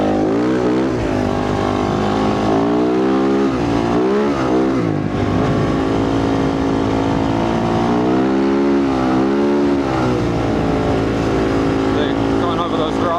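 A dirt bike's engine revs hard and steady as its rear wheel spins in loose desert sand, a loud, continuous droning whine that rises and falls in pitch, with a voice talking over it.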